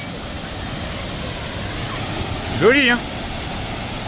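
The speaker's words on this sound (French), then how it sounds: "La puissance que ça dégage une cascade." Roaring waterfall close enough to soak onlookers, with a rainbow in the spray, a steady broadband wash of rushing water throughout while a voice briefly speaks near the end.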